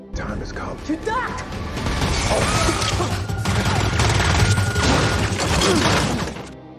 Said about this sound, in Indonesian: langsung memberondong rumah itu dengan tembakan